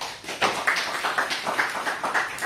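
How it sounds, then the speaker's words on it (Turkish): An audience claps steadily for a couple of seconds, fairly close and dense, after a quantum physics lecture at a seminar. "Alkışlayalım."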